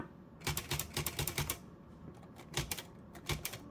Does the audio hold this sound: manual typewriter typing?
yes